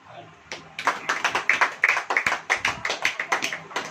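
A church congregation claps together during a sermon, building from a few scattered claps into loud, steady rhythmic clapping that continues to the end.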